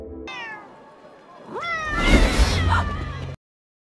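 Two cats meow in turn, first a thin wavering call and then a louder, rising, drawn-out yowl over a rumbling, busy background, ending abruptly.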